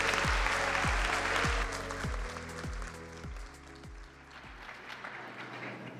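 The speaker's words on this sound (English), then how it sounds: "Let's give a big round of applause to all of our nominees in that category." Audience applause for award nominees at a teacher of the year awards ceremony, a steady wash of clapping over a low rhythmic music bed, fading slightly toward the end.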